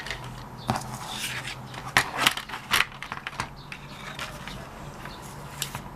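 Paper being folded into pleats for a gift card, a series of close crisp creases, rustles and taps in uneven bursts, with no voice.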